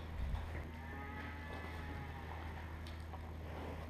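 Cows mooing on a farm, a long low bellow carrying over steady background rumble, with faint further calls layered in.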